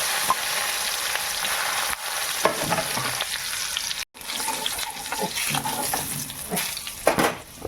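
Dry red chillies and crushed garlic fry in hot oil in a wok, crackling and sizzling steadily up close with clinks and stirring scrapes, one brief dropout midway.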